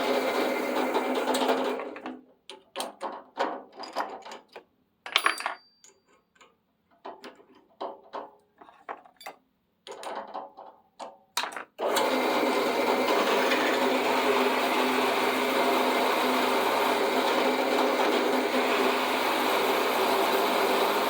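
A drill bores an 11/32 hole in a wooden Danish Modern table leg. Bursts of whirring and chattering cut in and out, then give way to a loud, steady grinding hum that runs for the last nine seconds.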